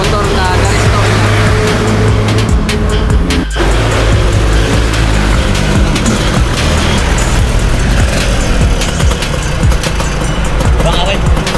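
A restored motorcycle roars loudly on a road test ride, with a continuous engine drone and wind rush, a brief dip midway, and a voice speaking over it.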